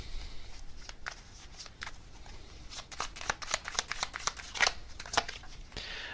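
Tarot cards get shuffled in soft irregular flicks and slaps that grow busier toward the end, close and quiet, with no one speaking.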